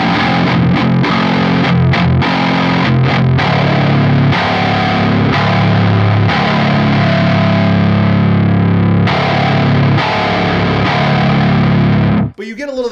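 A 9-string guitar on a switched pickup setting rings with bright, jangly distorted chords, loud and dense, strummed in repeated bursts with brief gaps before stopping abruptly near the end.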